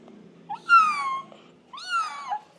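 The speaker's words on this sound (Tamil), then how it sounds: "ஐயோ பூனை சத்தம் கேட்குது." A cat gives two clear, close meows about a second apart, each rising and then falling in pitch, over a faint low background hum.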